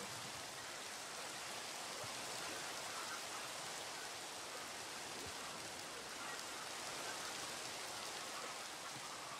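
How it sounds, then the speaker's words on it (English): Rain falls in the video game Minecraft as a steady, even hiss of dense raindrops, unchanging and fairly soft, with no talking over it. "Oh, the rain stopped."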